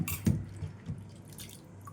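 Water drains off boiled potato and cauliflower pieces through a strainer, heard as a few soft drips and splashes, quiet and close.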